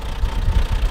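A tractor engine idles close by in a Turkish village, a steady low rumble with a faint knocking pulse and no voices over it.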